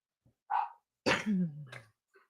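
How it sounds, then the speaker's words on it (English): A dog barks indoors in a home kitchen during a live cooking session: a short yap, then a longer, loud bark that trails into a low whine, followed by a faint final yelp. "Sorry about the dog barking. I don't know why she's barking."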